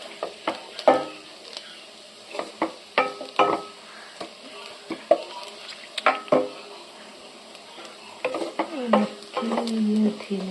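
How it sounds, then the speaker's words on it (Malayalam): Duck roast being stirred in a pan, with repeated scraping and clattering strokes of a spoon against the metal under a faint sizzle, rising to a louder, steadier fry near the end. "ഒക്കെ കൂടെ ഇളക്കി കൂട്ടി ഇങ്ങനെ വയ്ക്കുക."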